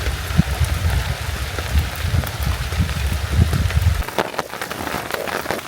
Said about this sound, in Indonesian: Ternyata hujannya beneran.